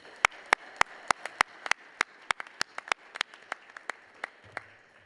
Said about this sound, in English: Another round of applause for Regent Kyle Weatherly.